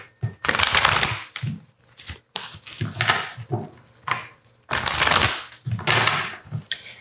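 Oracle cards shuffled by hand in a series of crisp, riffling bursts, close and fairly loud, with short pauses between shuffles and no talking.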